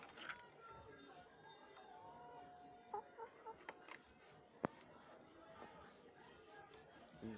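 Layer chickens, a flock of about 30 birds, cluck and chatter softly inside a poultry coop, a faint steady murmur with scattered louder clucks and one sharp brief sound, distant and low in level.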